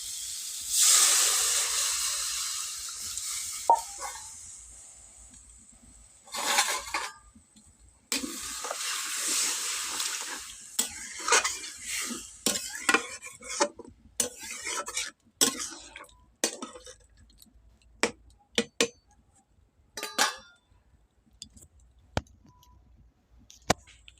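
A pot of Bengali cucumber sour dish (shosar tok) boils with a loud steamy hiss at first, then a spoon stirs and knocks against the pot in scattered sharp taps, nearby with no talk.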